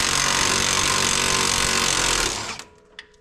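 An impact wrench removes 15 mm bolts from the axle of a Polaris Sportsman ATV with a lift kit. It gives a loud, steady, close-up burst that lasts over two seconds and then stops abruptly, followed by a few faint clicks.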